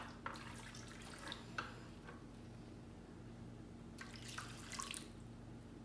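Water poured on a gas stovetop into a pan for an oven-free chicken and potato tray bake with bouillon cubes, splashing in bursts with drips between them over a low steady hum.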